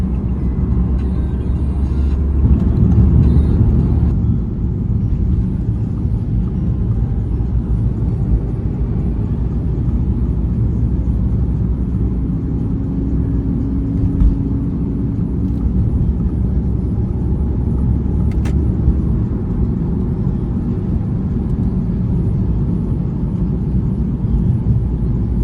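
A BMW E46 cruising on the busy Cipali toll road among heavy trucks, heard from inside as a steady low engine and road rumble with tyre roar. It stays constant throughout, and a brief faint tone rises midway.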